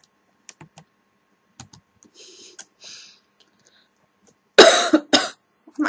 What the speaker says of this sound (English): My coughing, I'm not sick.